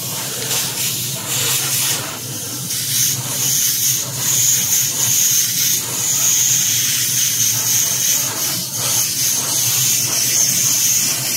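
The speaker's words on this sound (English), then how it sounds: "I typically spray in the direction that I want it to fade" An aerosol spray can hisses steadily and continuously while paint is sprayed onto a quarter-scale Spiderman 2099 figure, a close, broadband hiss with slight fluctuations and no talking.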